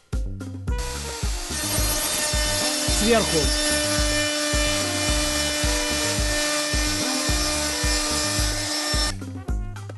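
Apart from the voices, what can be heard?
wood router cutting a log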